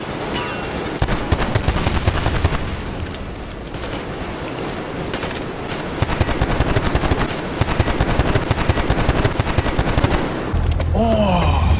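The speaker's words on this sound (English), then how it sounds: "firing off rounds without giving a single shit like" Sustained automatic gunfire in the post-apocalyptic shooter Metro Exodus, dense rapid bursts sounding loud and close, broken by brief pauses and ending in a final volley as the magazine empties.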